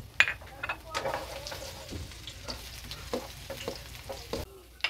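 Onions sautéing in cooking oil for pancit canton, a soft crackling sizzle with scattered light utensil scrapes and taps against the pan, close but fairly quiet, with no talking over it.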